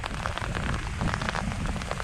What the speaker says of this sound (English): the hail has begun.